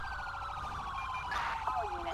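A police car siren in the video game GTA V wails continuously with a rising and falling tone, moderately loud, with a brief shift in pitch near the end and no speech.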